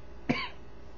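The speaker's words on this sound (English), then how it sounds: "I do have a mild cough" A single short, sharp cough from a man with a mild cough, heard close and clear against a quiet background.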